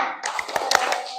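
A group of children clap hands in a quick rhythmic pattern in a classroom, several sharp claps over about a second with voices mixed in.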